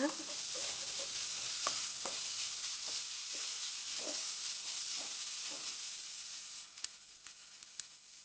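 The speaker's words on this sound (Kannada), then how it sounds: "ಬೆಳ್ಳುಳ್ಳಿ ಪೇಸ್ಟ್ ಹಾಕಿ ವಾಸನೆ ಹೋಗೋವರೆಗೂ ಹುರ್ಕೊಳ್ಳಿ ಚೆನ್ನಾಗಿ ಫ್ರೈ ಮಾಡಬೇಕಿದ್ದ" Garlic paste fries in a pan for chicken gravy, a continuous soft sizzling hiss with a few light stirring clicks and scrapes near the end, heard close.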